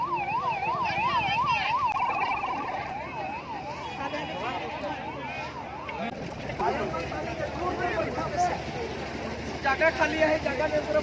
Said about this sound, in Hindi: अभी यहाँ पर एम्बुलेंस आया है